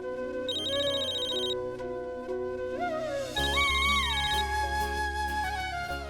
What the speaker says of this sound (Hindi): ये मैं रागिनी को फोन करती हूँ, वो आपको लेके जाएगी, है ना?